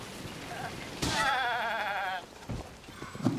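A goat in The Legend of Zelda: Tears of the Kingdom gives one long, wavering bleat, loud and close, standing out over quiet game ambience.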